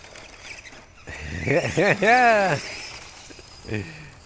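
An RC rock racer with a Holmes Hobbies Puller Pro 540L motor whines up and down in pitch through several quick rising and falling sweeps, close and fairly loud, with a brief final burst.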